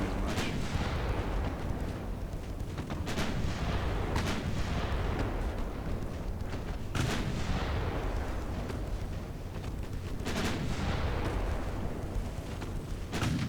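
Naval gunfire and shell impacts from the battleship game Ultimate Admiral Dreadnoughts, with repeated heavy booms and sharp blasts every few seconds over a constant loud rumbling battle din.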